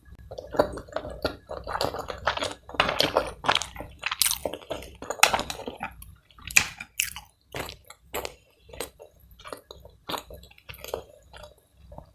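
Close-up chewing of sushi, with moist, squishy bites and crunchy mouth sounds coming in irregular bursts separated by short quiet pauses.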